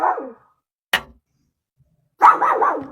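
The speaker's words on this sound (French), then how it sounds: "Non, c'est un chien." A dog barks at night, three short, sharp, fairly close barks separated by silence, the last a quick double bark.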